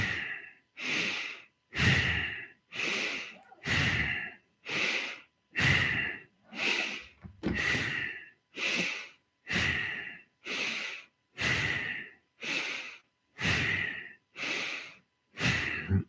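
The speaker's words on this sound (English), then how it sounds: "30 rounds of bow breathing" Rapid bellows breathing exercise: about sixteen forceful, evenly spaced breaths roughly one per second, close and loud, with short silent gaps between them and no talking.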